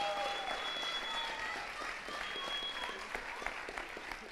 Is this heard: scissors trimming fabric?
no